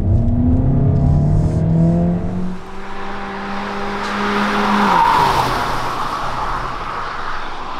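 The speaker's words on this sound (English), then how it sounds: "let's put the car into sports and drive" A 2021 Hyundai Elantra Hybrid driven in sport mode gives a loud rising engine note with climbing tones, then a broad rushing road and wind roar as speed builds.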